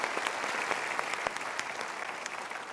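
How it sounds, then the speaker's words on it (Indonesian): An audience at a Mario Teguh motivational talk gives a dense, steady round of applause that holds evenly throughout. "Good, kita berikan tepuk tangan."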